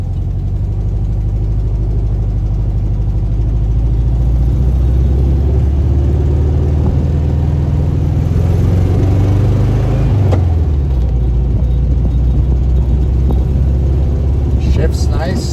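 A Herbie car with a rebuilt fuel system drives along, its engine a loud, steady, close drone that rises and falls as it pulls through a gear change about two-thirds of the way through, with someone talking over it.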